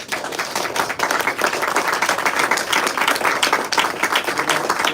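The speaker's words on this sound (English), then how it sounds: "let's have a big round of applause for all the poets who have performed so far" Sustained applause from an audience at a live poetry performance event, dense and steady clapping from many hands filling the whole stretch at close range, with no talk over it.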